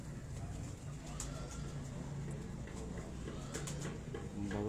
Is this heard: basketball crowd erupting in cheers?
no